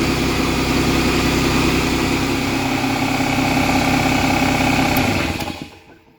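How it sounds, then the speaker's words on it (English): An Ingersoll Rand SS5L5 air compressor runs with a loud, steady mechanical drone close by, then winds down and stops near the end, leaving quiet. "and compressor goes on"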